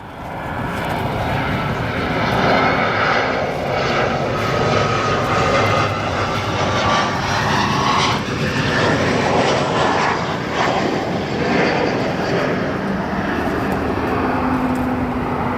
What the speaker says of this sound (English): Little whale sounds coming from those A220 engines as it's going to depart to Boston here.